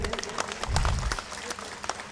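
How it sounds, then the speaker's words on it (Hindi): An audience claps at a constitution protection conference in Neral in a short burst of crowd applause, fairly close, with voices underneath. "जोरदार ताली बजनी चाहिए।"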